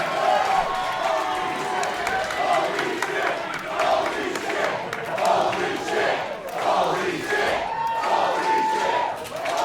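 Wrestling crowd at a sold-out Mill venue in Granite City chanting in loud rhythmic waves after a dive over the top rope, a dense roar of many voices filling the hall.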